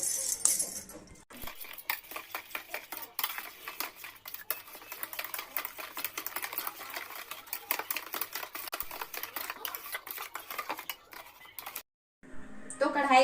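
A utensil beats chila batter for Chhattisgarhi balbala chila roti in a bowl, making quick, rhythmic clicks and scrapes that run for about ten seconds, with a voice speaking briefly at the start and end.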